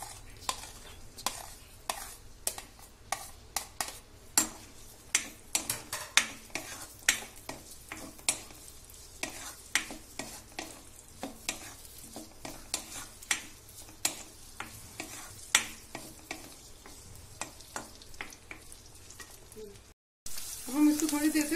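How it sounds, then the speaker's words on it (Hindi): Bell peppers sauté in hot oil in a kadai, with a steady sizzle and a rapid run of sharp spatula scrapes and clinks against the pan, all close and without talk. "हम इसको थोड़ी देर तक हमारे बेल पेपर्स को भूनेंगे।"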